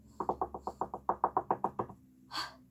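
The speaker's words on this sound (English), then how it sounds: "there was a knock at the door" A rapid series of about fourteen crisp knocks on a door in a fairy-tale audio drama, evenly spaced and close, followed by a short softer thud.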